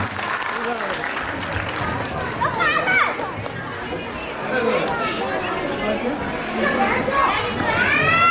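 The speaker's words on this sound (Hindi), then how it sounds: "एक बार तालियां पूनम मैम के लिए बजा सकते हैं।" An audience claps for a teacher at a school annual day, with sustained mid-level applause mixed with children's chatter and voices throughout.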